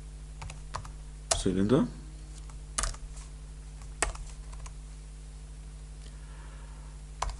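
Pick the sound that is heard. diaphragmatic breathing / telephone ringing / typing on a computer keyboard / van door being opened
typing on a computer keyboard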